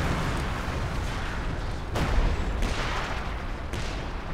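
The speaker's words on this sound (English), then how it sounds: "Looks like the LEFH are lining up some counter barrage shots at it." Artillery counter-barrage from LEFH howitzers in the Company of Heroes 2 strategy game, with three dull booming blasts spaced a second or so apart over a constant rumbling battlefield din.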